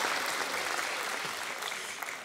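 Studio audience applause on a Serbian televised singing competition, a steady even wash of clapping, moderately loud and without voices.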